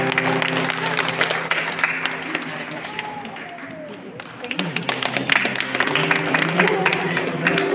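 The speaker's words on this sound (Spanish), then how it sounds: "Nos alegramos todos con un fuerte aplauso." Wedding guests at a Spanish-language church ceremony break into sustained applause for the newlyweds, a dense, even clatter of clapping throughout, with voices talking and murmuring underneath.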